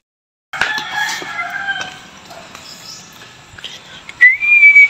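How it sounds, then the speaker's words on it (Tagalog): A broodcock rooster crows nearby in one drawn-out call, followed by scattered clucks and rustling. A sharp, high whistle rings out near the end. "Ito po yung broodcock natin."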